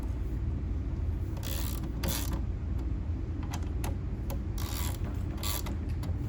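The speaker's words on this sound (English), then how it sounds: "Use a 10mm to tighten." Ratcheting clicks from a 10mm wrench tightening the bolts of a TOTLYLGL V2 license plate mount on a 2023+ Honda Civic Type R FL5, several short bursts of clicking spread across the clip over a steady low background hum.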